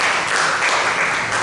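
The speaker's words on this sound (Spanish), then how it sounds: "Quiero que se den un fuerte aplauso a todos ustedes." Members of the Comunidad de Cristo church congregation applaud together in a brief, dense burst of steady clapping that fills the room at close range.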